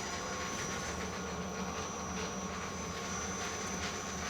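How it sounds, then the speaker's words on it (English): A stone grain mill grinds local grain into bread flour with its top stone spinning fast, giving a steady, even whirring drone with a thin high whine running through it, constant and unbroken throughout. "It kind of builds up the RPMs on the mill until finally that top stone is rotating really fast around."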